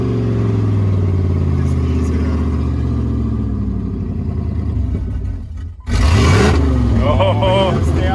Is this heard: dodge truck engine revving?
yes